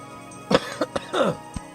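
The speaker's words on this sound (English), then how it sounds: "That's not a sneeze, that's a cough." A single throaty cough, a few short rough bursts in quick succession, close and fairly loud.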